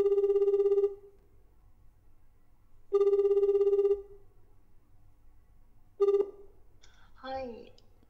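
A telephone ringback tone heard while a call is being placed: three evenly spaced one-second rings, the last cut short as the line is answered, followed briefly by a voice.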